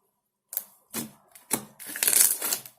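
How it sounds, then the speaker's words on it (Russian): Clear slime from Tangl wow slime being pressed and stretched by hand, giving several close, crisp clicking and crackling bursts in quick succession with brief pauses between them. "Он кликает,"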